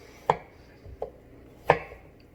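Knife chopping ginger on a cutting board while prepping a mead-glazed pork belly: three sharp, close chops spaced unevenly, the first and last loud and the middle one lighter.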